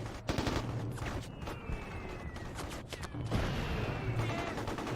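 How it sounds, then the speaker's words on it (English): Artillery strike in the video game Mercenaries: Playground of Destruction, a dense continuous rumble of rapid gunfire-like bursts and explosions, loud and sustained throughout with no talking. "There's artillery strike."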